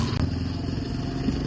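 A motorcycle engine runs in a continuous low, rough hum with a brief clatter near the start, moderately faint and heard alone.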